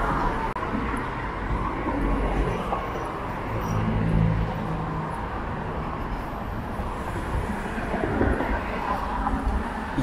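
An airport express train (UP Express to Pearson) rumbles past on an overpass in Toronto at a steady, moderate distance, a broad rolling roar with a low hum underneath, no voices.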